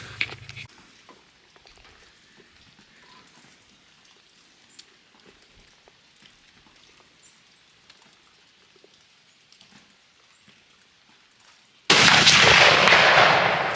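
A rifle fired at a target on a 200-acre farm: a long stretch of quiet outdoor ambience with faint scattered sounds, then one sudden loud, booming report near the end that rings out before the clip stops.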